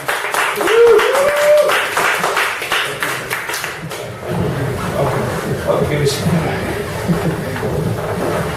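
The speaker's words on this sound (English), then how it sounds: "we all have to stand up and applaud and make as much noise as possible for our great speaker tonight" An audience gives applause and cheering for a speaker at a Startup Grind event in Cardiff, dense clapping at first, then quieter crowd murmur and scattered claps, with a voice speaking over it.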